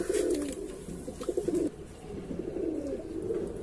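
Pigeons coo close by, soft throaty rolling calls repeating in bursts, with no other sounds around them.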